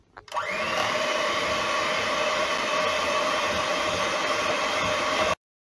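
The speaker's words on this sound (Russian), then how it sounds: "И все промешиваем миксером." An electric hand mixer whirs steadily as it blends blueberry puree with cheese cream and agar set with milk, a continuous loud motor drone that starts with a brief clatter and runs unbroken for about five seconds before cutting off abruptly.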